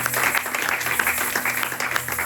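A church congregation claps and applauds during a service, a dense burst of many hands close and continuous for a couple of seconds.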